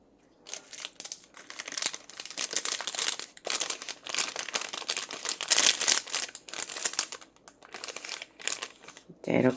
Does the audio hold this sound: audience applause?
no